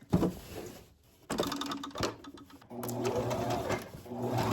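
A sewing machine runs in several bursts while stitching an envelope pillow cover with an edge, stopping briefly at a pivot with the needle down, with some soft handling noise in between.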